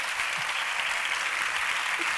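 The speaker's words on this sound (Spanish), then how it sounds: "un fuerte aplauso para Cristian, por favor" A full hall of people applauds speaker Christian Gálvez at a school bullying event, a dense, even roar of clapping that stays loud and constant for the whole stretch.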